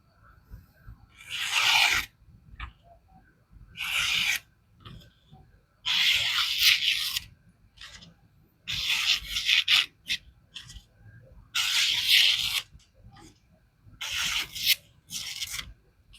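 A Hightron Hot knife with 14c28n steel blade is drawn across a Sharplyn sharpener in repeated rasping strokes, about eight separate passes each lasting roughly a second with short quiet gaps between, close and clear with no talking.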